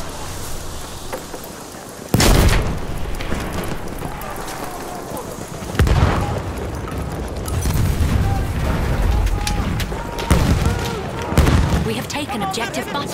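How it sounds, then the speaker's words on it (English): Heavy bomb blasts thunder across a Battlefield 1 match, several booming impacts spread over the stretch amid ongoing battle noise, with a voice talking in the background. "Bomba atıyorum."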